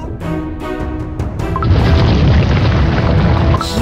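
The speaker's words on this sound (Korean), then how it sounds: "이번엔 진짜 지진이야. 화산이 폭발하려고 해!" Volcano erupts in the Cookie Run Kingdom game, a loud, deep booming rumble with crashing bursts that swells and stays heavy to the end.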